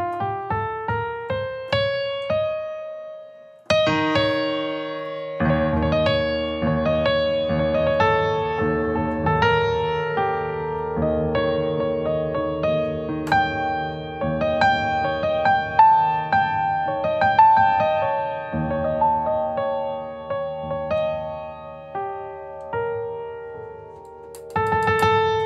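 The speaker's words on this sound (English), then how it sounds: "And Lydian dominant sounds like this." Keyboard instrument playing a Lydian dominant scale: a few rising single notes, then sustained chords and melody phrases, loud and close.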